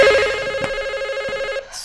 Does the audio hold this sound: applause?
no